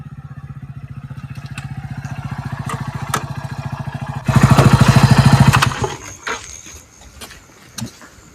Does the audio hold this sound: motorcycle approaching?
yes